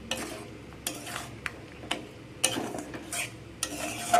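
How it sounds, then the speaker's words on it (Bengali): Spices are stirred into a sweet, sour and spicy mango pickle, giving soft scraping and clinking strokes in an irregular rhythm, fairly quiet and close, with no talking. "সব মশলাটাকে দিয়ে আবার একটু আমি নাড়াচাড়া করে নিচ্ছি"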